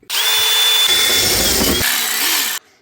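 A power drill boring a hole through a wooden van wardrobe, one loud close continuous whine whose pitch shifts and then deepens and roughens as the bit bites through the wood before stopping.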